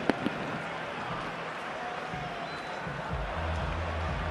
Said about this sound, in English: Crowd is celebrating.